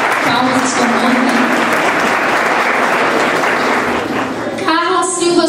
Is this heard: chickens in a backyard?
no